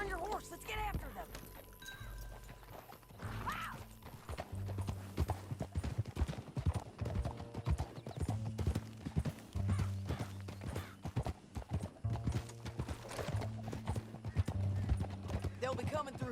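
Horses galloping in Red Dead Redemption 2, a steady clip-clop of hooves with an occasional neigh, running under game music and a voice talking throughout.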